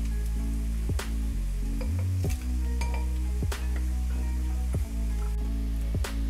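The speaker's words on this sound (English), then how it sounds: "While my onions are frying" Onions frying in a pan for an Indian butternut squash curry, a steady sizzle with scattered clinks of a utensil against the pan, no voices.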